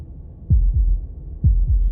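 Heartbeat in the video game Slay the Princess: two deep, muffled double thumps in a slow lub-dub rhythm, loud and close over a low rumbling hum.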